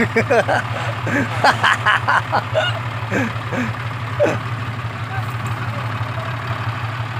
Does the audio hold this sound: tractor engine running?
yes